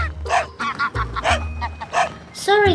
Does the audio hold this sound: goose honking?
yes